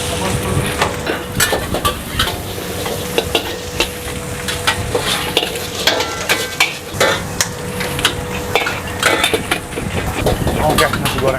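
Spatula scraping and clanking in a wok as nasi goreng with exo seasoning is stir-fried in a busy eatery kitchen, steady loud sizzling with rhythmic metal strikes throughout, voices talking over it.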